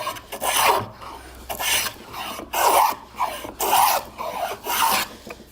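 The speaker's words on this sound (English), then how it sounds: "I'm going to go ahead and start planing with this" A hand plane shaves a wooden board after its blade has been sharpened, pulling wide, thick shavings in five or six long rasping strokes, each a sustained scraping swell followed by a short pause, close up with no talking.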